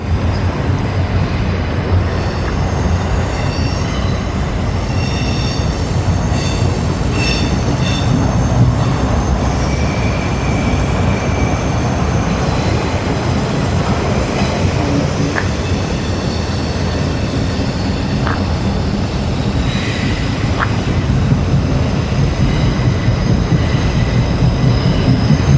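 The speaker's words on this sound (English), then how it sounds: "the train is coming through" A train rolls through Kennesaw, a steady loud rumble of wheels on rails with faint metallic squeals and clicks, continuous and close for the whole stretch, no voices.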